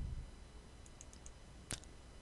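A single sharp computer mouse click sounds close and faint against a quiet background, with a few softer ticks just before it.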